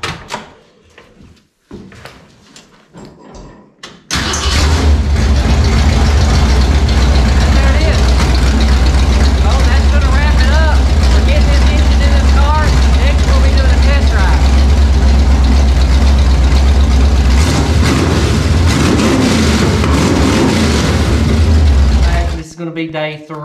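A Ford 302 V8 on uncapped open headers in a 1967 Mustang cranks and catches at about four seconds, then runs loud and close in a heavy, rumbling idle for nearly twenty seconds before cutting off.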